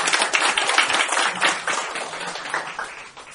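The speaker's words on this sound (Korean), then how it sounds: "이병건 박사님께 큰 박수 다시 한번 부탁드립니다" Audience applause at a Korean success seminar on reading, a dense steady wash of many hands clapping that stays loud throughout and thins slightly near the end.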